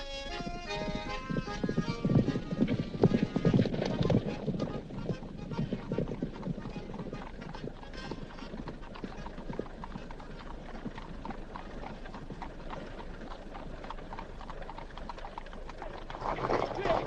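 Horse hooves clip-clop steadily on a hard surface at a 1961 smugglers' bay setting, a rhythmic train of knocks mixed under music and voices throughout.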